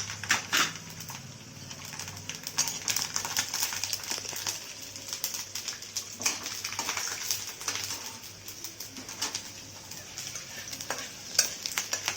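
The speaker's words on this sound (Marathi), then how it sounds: "पण तेल आणि गरम तेल आहे ना त्याच्यात थोडासा ह्या लसणाच्या पाकळ्या तळून घेऊया" Garlic cloves frying in oil that is not yet very hot, for a raw mango pickle, giving a steady light sizzle with scattered crackles and occasional stirring scrapes, close and moderately loud without talk.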